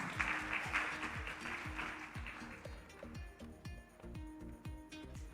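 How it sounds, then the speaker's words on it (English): An audience at a competition's final round applauds a team, with the clapping strongest at the start and fading under a steady, thumping rhythmic music beat. "Give a round of applause again to CU03."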